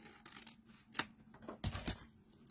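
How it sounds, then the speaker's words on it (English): Scissors snip through a paper craft tag, a few short crisp cuts and rustling paper close by, quiet and without talk. "I'm just going to cut it off."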